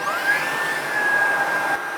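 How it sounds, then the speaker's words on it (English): A Ryobi cordless stick vacuum runs close by with a steady, high whining motor hum, loud and unbroken, cutting off abruptly at the end. "With the Advanced, you get a stick style vacuum"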